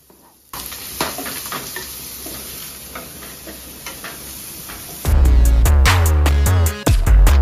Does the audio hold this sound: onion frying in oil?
yes